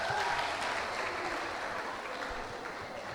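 Audience applause filling a model UN session hall, dense continuous clapping from many hands that holds strong and then slowly tapers, with faint voices mixed in.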